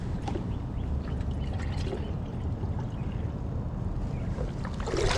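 Water poured and splashing into a bait bucket outdoors beside a boat while fishing, a steady close-up wash of splashing that runs through the whole stretch without talk.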